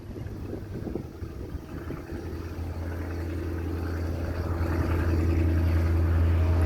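An Alstom CC diesel locomotive on Thailand's eastern railway line, hauling train 284, gives a steady low engine rumble that grows gradually louder as it draws nearer.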